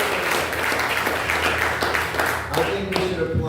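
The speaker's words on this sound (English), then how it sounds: "let's give Bhuta Bhavana a nice," A seminar audience gives a warm round of applause for a guest speaker, dense continuous clapping at a steady level with a low hum beneath.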